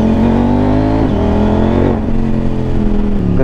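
A 2024 CF Moto 800MT adventure motorcycle engine revs hard and loud up close, holding high RPM with a dip and quick recovery around the middle, a dense racing-like whine throughout.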